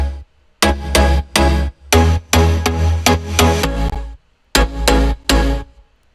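Stacked plucky synth chords with reverb ring out in short rhythmic bursts, groups of bright hits separated by brief gaps, loud and full with no voice over them.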